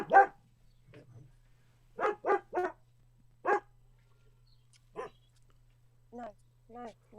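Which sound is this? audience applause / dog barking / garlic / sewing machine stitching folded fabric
dog barking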